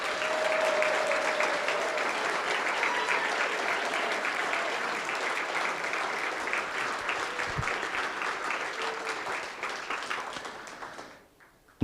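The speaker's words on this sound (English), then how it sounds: "if I could ask for one last round of applause for our students" Sustained applause fills a hall for students at a School of Humanities and Global Studies spring 2022 award ceremony, many hands clapping steadily before fading out at the end.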